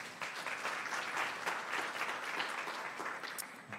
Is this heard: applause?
yes